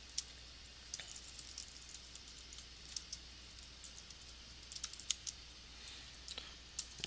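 Quick, light keystrokes on a computer keyboard as an awk command is entered in a Linux terminal, irregular soft clicks over a quiet room hum with no speech.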